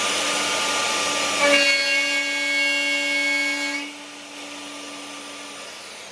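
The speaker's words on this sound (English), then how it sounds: "I'm just doing my V-groove at the moment." A router cuts a V-groove in an AluSplash aluminium composite panel, giving a loud, steady high-pitched motor whine that rises in pitch mid-cut and then eases to a lower, quieter drone.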